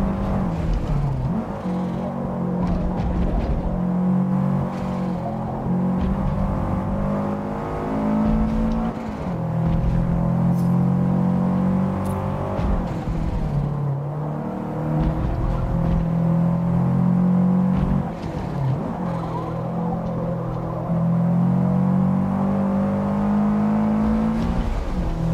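A Subaru race car engine in Forza Motorsport revs continuously in repeated climbing and dropping cycles through gear changes, loud and steady with no voices.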